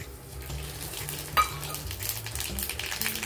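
Cumin, dried chilli, bay leaf and mustard seeds sizzle in hot oil in a pan: a quiet, steady frying hiss with a sharp clink of utensil against the pan partway through.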